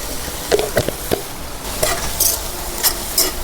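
Wild leafy greens fry in a pan as a spatula stirs them, giving a low sizzle broken by several sharp scraping strokes and taps, close and fairly loud.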